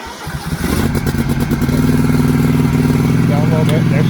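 A Scag V-Ride stand-on mower engine cranks over and catches, then settles into a steady, loud, close running drone that holds for several seconds.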